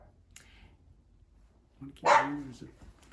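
A dog gives one short bark near the end, close by, after a quiet stretch with faint background and a little talk.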